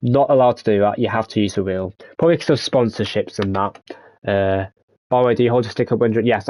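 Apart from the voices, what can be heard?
No everyday noises stand out.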